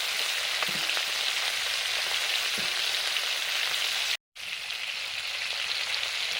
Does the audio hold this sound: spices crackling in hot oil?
yes